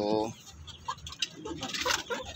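A Shamo chicken stag clucks softly in a backyard poultry pen, giving a few short low clucks close by, mixed with faint background noise and a voice talking.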